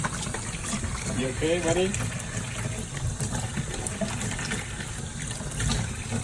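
Tap water runs steadily while a kitten is washed, a constant close gush under a voice speaking briefly to the animal.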